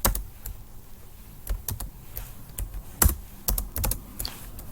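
Keystrokes on a computer keyboard tap in irregular short runs, close and fairly crisp, with brief pauses between bursts and no talking.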